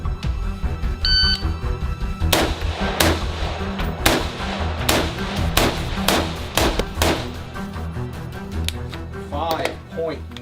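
Sharp, loud gunshots from a rifle or pistol during a timed shooting drill at a range, about a dozen irregularly spaced cracks close to the mic, under someone narrating over music.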